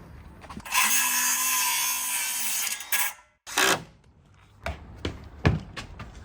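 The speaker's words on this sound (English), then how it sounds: "I ain't used to this right-handed drill." A power drill whirs steadily for a couple of seconds, then several short bursts of driving screws into wood follow, close by with knocks of wood, while building boatyard stairs.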